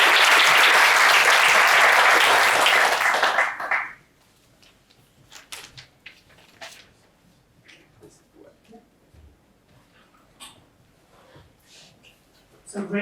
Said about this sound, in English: please a round of applause for Chiara